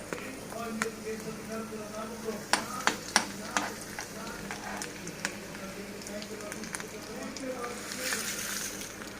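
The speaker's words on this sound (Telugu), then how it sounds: "ఒక కడాయి పెట్టుకొని వెల్లుల్లిపాయలు" Garlic frying in a kadai for a prawn-shell chutney, a soft steady sizzle broken by sharp clinks and scrapes of a stirring spoon, fairly quiet throughout.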